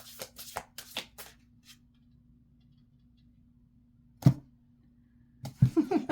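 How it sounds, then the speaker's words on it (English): A deck of cards is shuffled in quick riffling bursts, a cluster at the start, then one sharp riffle and a final flurry, close and crisp over a faint steady hum, with no talk. "I don't know why I'm shuffling again, you guys."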